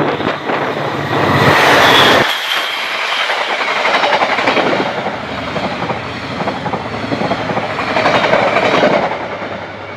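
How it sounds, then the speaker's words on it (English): A commuter train of refurbished ex-British Rail coaches hauled by a DFB class diesel locomotive, heard close and loud as a continuous rumbling roar with rhythmic clickety-clack of wheels over rail joints and wind buffeting the microphone. "Both services use refurbished ex-British rail coaches hauled by DFB class diesel locomotives."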